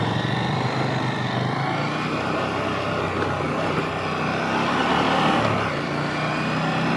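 Engine of a 2022 KTM 890 Duke motorcycle on a test ride, a steady broadband drone with wind rush that swells slightly toward the end, continuous and fairly loud with no talk.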